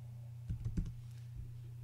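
Brief keyboard typing while a word is entered into a text field in the RaceTrackerMX race-class editor, a short cluster of quiet clicks over a steady low hum.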